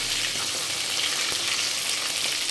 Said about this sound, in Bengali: তো ফুল ফ্লেমেই আমি মাছগুলোকে ভেজে নিতে শুরু করি